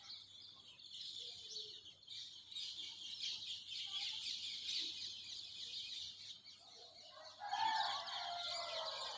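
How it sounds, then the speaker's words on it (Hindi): Several peacocks call in front of a house, producing loud, sustained high-pitched wailing cries that run continuously, rising louder near the end; no talking. "छः, छः सात मोर पड़े यहाँ पे।"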